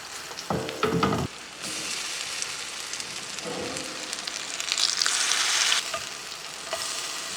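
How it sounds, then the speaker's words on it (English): Banana sweet potato oat pancake batter fries in a ladle of hot oil over medium heat, giving a steady close sizzle throughout with louder bursts of crackling near the start and again midway, and no talking. "A ladle of oil to cook a pancake."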